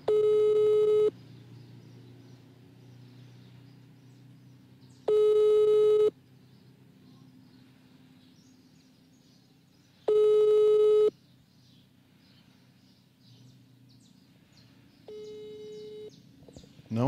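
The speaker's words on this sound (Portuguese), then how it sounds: "A reportagem obteve o telefone da Cristiane e nós também tentamos ligar para ela" An unanswered phone call gives a repeating telephone tone in four evenly spaced one-second bursts about five seconds apart over a faint low hum, with the last burst quieter.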